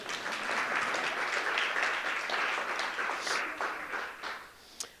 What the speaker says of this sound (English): Let's give her a round of applause anyway.